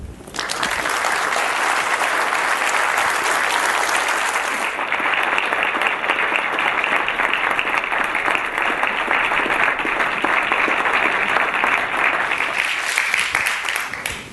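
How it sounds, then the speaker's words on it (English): Sustained audience applause fills the room after a talk at a community health event, a dense, steady wash of many hands clapping for about fourteen seconds without pause. "Let's give Rich Louv another round of applause"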